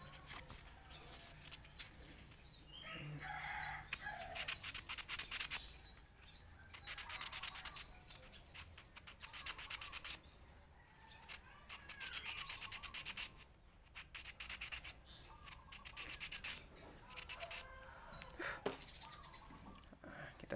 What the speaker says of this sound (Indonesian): Kita gunakan amplas.